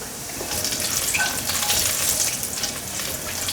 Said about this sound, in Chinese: 锅内再放入少许的油，爆香姜末。